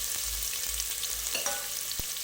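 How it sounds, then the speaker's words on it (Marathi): Finely chopped onion sizzling in a little hot oil for Kolhapuri mutton pickle, a continuous hiss up close with soft scraping stirs and one sharp tap of a utensil near the end. "तेलामध्ये आपण कांदा टाकून घेणार आहोत"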